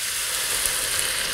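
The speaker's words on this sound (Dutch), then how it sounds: "Daar kan eigenlijk meteen al de bouillon bij. Daar gaat een litertje bouillon bij." A litre of stock is poured into a hot pan and sizzles as a steady, dense hiss with small crackles, close by and with no talk over it.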